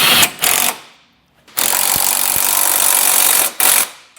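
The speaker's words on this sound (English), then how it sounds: "We can now go back with a 17mm socket and snug down our hardware." A power tool with a 17mm socket snugs down hardware on a 2019 Jeep Cherokee during a base plate install, giving three loud, close buzzing bursts, one long and two short, separated by brief quiet.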